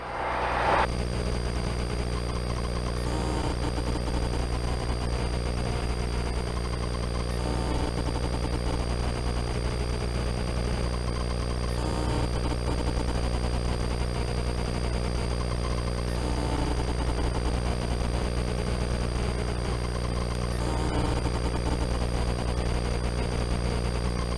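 Small training airplane engine at takeoff power, a loud steady drone with strong harmonic hum running continuously from start to finish, close and unbroken, no talk over it.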